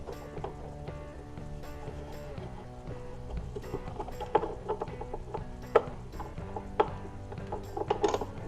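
Ratcheting clicks and metallic tool noises come from bolts being driven around the perimeter of the timing cover on a Toyota/Lexus V6 engine during a timing belt replacement. Bursts of clicking grow sharper and more frequent toward the end over a steady background hum.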